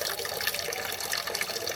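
Water running slowly from a frost-proof hydrant on a farm, a steady close trickling and splashing stream that flows evenly and alone throughout.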